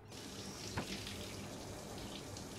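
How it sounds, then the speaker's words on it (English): A shower running in a bathroom gives a continuous, fairly quiet hiss of streaming water, steady throughout with a brief splash partway through, heard without talking. "you hear running water coming from the bathroom. Someone is taking a shower."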